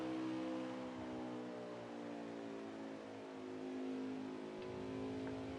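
A race truck engine drones steadily at high revs, its pitch easing and shifting as it backs off into a corner, then climbing again; loud and continuous with no voices.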